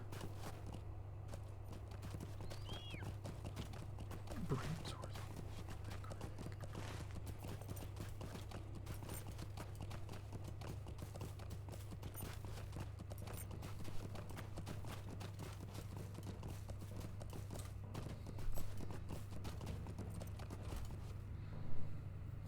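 Steady clip-clop of horse hooves at a brisk pace in the video game Lord of the Rings Online, over a constant low droning background, continuing throughout without voices.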